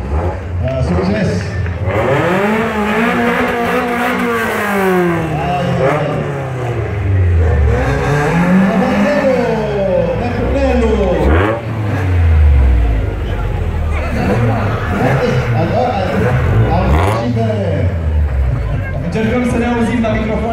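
Vintage car engines rev up and down repeatedly at a retro racing event in Cluj, rising and falling in pitch, loud and close, with crowd chatter mixed in underneath.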